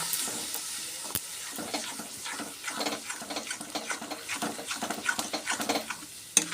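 Spices with coriander powder, cumin powder and salt sautéing in a pan for green banana kofta curry, a soft sizzle under rhythmic scraping strokes of a spatula that grow more regular in the second half, fairly quiet and close.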